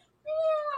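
A kitten gives a single short, high meow, close and clear against a quiet background.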